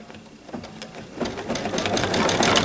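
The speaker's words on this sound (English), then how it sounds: "And lower the presser foot, stitch a few stitches." A Baby Lock sewing machine stitches a few stitches for tree quilting, its motor whirring steadily and building to a fast, even, rapid chatter of the needle that grows louder toward the end.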